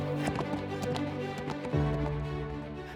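Horse hooves clip-clop at a steady trotting rhythm, a story sound effect of a young warrior riding to Thanjavur. Moderately loud hoof taps play over soft music.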